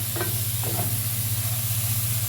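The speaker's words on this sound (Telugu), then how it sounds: "ఒక 5 నిమిషాలు బాగా ఫ్రై చేసుకోవాలండి." Shrimp frying in a pan for a shrimp biryani, a steady soft sizzle with a few brief stirring scrapes near the start, close and continuous under a low kitchen hum.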